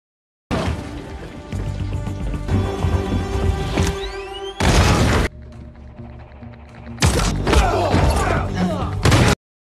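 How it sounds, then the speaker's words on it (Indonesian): A grenade explosion in an action film hits as heavy booming bursts with crashing debris, set among tense film sound effects, with a quieter gap between the blasts. "salah satu dari mereka menginjak granat buatan Mansell"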